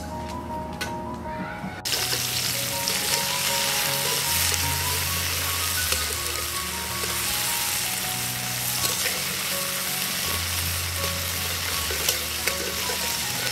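Chopped tomato frying with onions in a pan sizzles steadily and loudly, with stirring scrapes throughout after a brief quieter opening.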